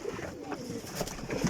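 Pigeons at a pigeon-flying event coo softly in a brief, faint burst of low murmuring calls, with some background noise around them.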